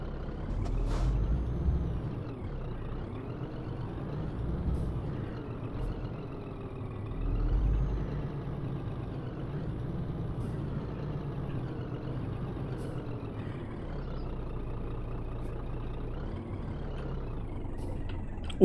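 A Scania truck in a driving simulator game struggles to pull away, its low engine rumble droning steadily with a brief hiss of air brakes near the start, swelling slightly at moments, with no voices.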